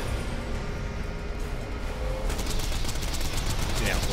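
Rapid gunfire from a shooter video game fires in dense bursts that crackle loud and close, over busy game background noise, with a voice speaking partway through.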